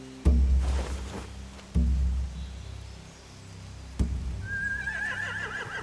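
Video game horses whinny several times at spaced intervals, with a loud close snort-like onset each time and a higher neigh near the end.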